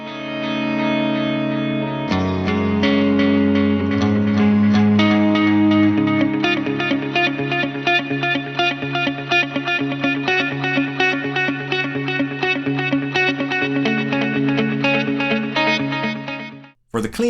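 An electric guitar plays a clean ambient tone through a Headrush Prime processor with a compressor and boosted amp model, sustained chords and picked notes ringing with chorus and echo, loud and continuous before stopping abruptly.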